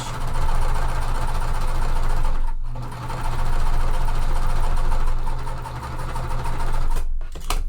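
A sewing machine runs close and steady while stitching quilt pieces at a quarter-inch seam, its rapid mechanical whir pausing briefly twice before resuming.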